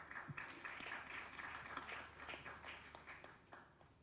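Faint, distant audience applause at a bell-ringing event for gender equality at a stock exchange, a soft continuous patter of clapping that holds steady before gradually thinning out.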